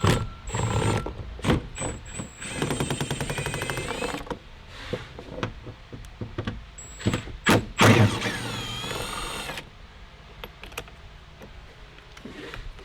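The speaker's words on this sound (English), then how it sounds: "we're gonna get a 10mm socket on an extension, and we're gonna go in there" A 10mm socket wrench on an extension works inside the door of a Nissan 350z during passenger window removal, giving rapid ratcheting clicks in bursts between sharp metallic knocks and handling noises, up close.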